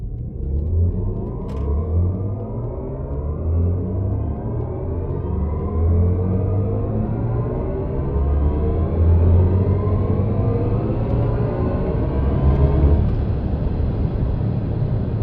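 BMW i4 M50 electric car accelerating hard, a steady rumble with a whine that climbs continuously in pitch for about thirteen seconds, then levels off, heard from inside with no talking.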